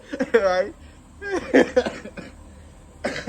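A few sharp coughs mixed with throat clearing, close by, with brief bursts of talking in between.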